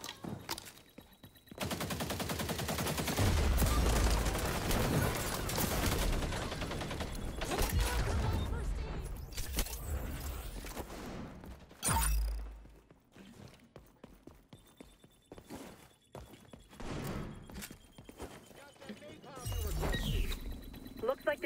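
Gunfire in the XDefiant shooter on PS5, a continuous rapid rattle of automatic fire that thins into scattered shots and impacts, with occasional in-game voice lines and footsteps between bursts.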